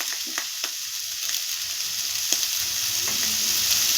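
Raisins frying in hot oil in a pan for Kanika Bhog, a steady close hiss and sizzle with a few faint stirring clicks and no talking.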